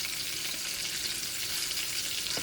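A ham steak fries and browns in a pan, giving a dense, constant close-up sizzle with one faint clink near the end and no voices.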